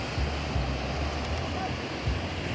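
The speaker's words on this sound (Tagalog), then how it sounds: "At sa alon, oh. May laki alon, oh." Ocean surf at a beach at sunset, a steady broadband wash of breaking waves with low rumbling swells and some wind buffeting the microphone, with faint talk in the background.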